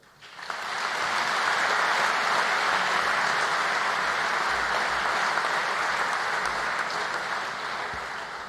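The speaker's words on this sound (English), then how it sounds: "Ladies and gentlemen, may you all give a warm round of applause" An audience at a 2015 Maritzburg College event gives guest speaker Jason Graham a round of applause. The dense, steady clapping swells quickly and holds at full strength for several seconds before easing slightly.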